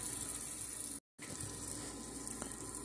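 Chopped onions sizzle steadily in a pot of vegetable soup, a close frying hiss broken by one brief dropout of silence before it resumes.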